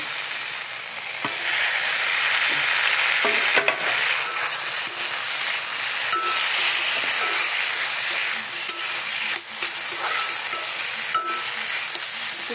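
Prawns sizzle loudly in a pan with potatoes, a steady frying hiss broken by occasional scrapes and knocks of a spoon stirring them, close and without talk.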